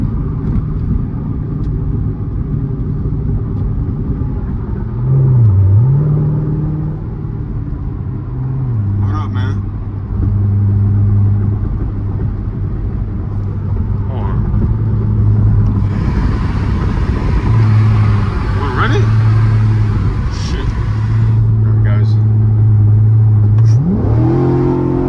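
Loud Chevrolet C7 Corvette V8 with a rumbling exhaust, revving and accelerating on a late-night drive, heard from inside with repeated rises and falls in pitch, while people talk over it.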